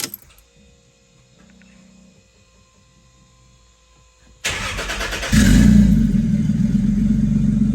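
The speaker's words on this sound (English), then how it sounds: "Thought I'd show you guys a quick video of the car actually running." A Toyota Aristo engine cranks and fires abruptly after a quiet lead-in with faint background hum, then settles into a loud, steady running note that grows stronger and fuller, close to the listener and with no talking.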